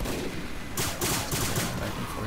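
Gunfire in Team Fortress 2 on the Badwater map, with a burst of several sharp shots layered over heavy, noisy battle sound, loud and close throughout.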